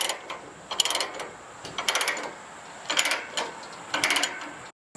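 A chain-binder ratchet is cranked down to secure a mini excavator on a trailer. Four quick, loud bursts of rapid metallic clicking come at a steady pace with brief pauses between, close by and alone.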